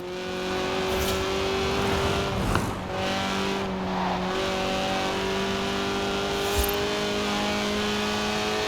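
A 1.8-litre, 190-horsepower lightweight car under 700 kilos in the racing game Forza Horizon 4 revs hard toward 8,000 RPM, its steady, loud engine tone holding throughout with brief shifts and a faint tire scrub, no talking.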